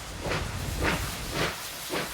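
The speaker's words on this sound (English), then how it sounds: "These R-class locos were the last passenger steam trains built for this country." Rhythmic bursts of steam hissing from a Victorian Railways R-class passenger steam locomotive in Australia, four puffs in about two seconds, loud and close.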